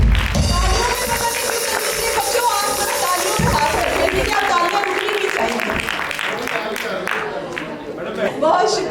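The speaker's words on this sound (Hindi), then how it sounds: "इनके लिए थोड़ी तालियां बजा रहे हैं।" An audience at an award show claps through a literary honour, with applause mixed among music and voices, fairly loud and continuous.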